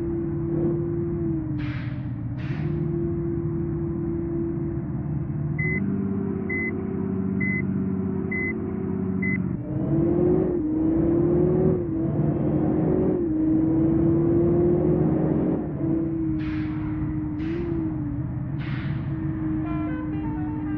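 A Volvo 9600 B8R sleeper bus in Bus Simulator Indonesia drones along with a steady low engine hum that swells as it accelerates, broken by a row of short electronic beeps and a few brief higher tones.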